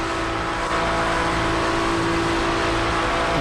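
Loud, continuous GT3 race car engine roar at Le Mans in the iRacing sim, a steady high-revving drone with no lifts or gaps, heard alone without talk.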